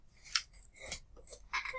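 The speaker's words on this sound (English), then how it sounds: "no one wants to be sitting half an hour watching some guy struggle with scissors" Scissors cut open a cardboard box, giving a handful of crisp, close snipping and rustling bursts spread unevenly over a couple of seconds with no talk.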